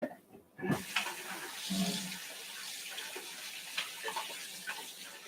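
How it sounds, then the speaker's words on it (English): Running tap water rinsing something in a kitchen sink, a steady close splashing gush with a few clunks at the start, continuing evenly throughout. "should probably rinse that off"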